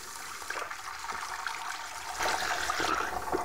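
Liquid poured through a funnel into a container, a steady watery trickle and gurgle that grows fuller and louder partway through, close by with no talk.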